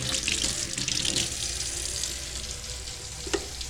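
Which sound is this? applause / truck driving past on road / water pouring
water pouring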